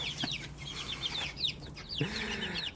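High, thin cheeping from young chicks in a newly built coop repeats in quick bursts, with a few lower clucks underneath, all close against a steady background hum.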